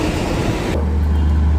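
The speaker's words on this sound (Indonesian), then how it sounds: "Lokomotif penarik kereta api Taksaka hari ini adalah CC206 1363 Dipo Induk, Yogyakarta." A CC206 diesel locomotive hauling the Taksaka passenger train in Indonesia, a loud steady rumble with a deep low drone settling in partway through and no talk.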